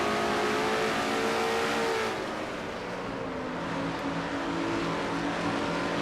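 Onboard a stock race car in a NASCAR-style Castrol GTX Cup race, a loud, sustained engine roars at high revs, easing slightly as the throttle is lifted and then pulling steadily again, with no talk.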